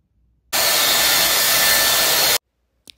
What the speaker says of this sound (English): So you can hear the noise of the blow dryer.